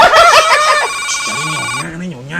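A telephone rings briefly at the start, a bright trilling tone during a staged Balinese-Indonesian virtual arts performance, followed by someone speaking.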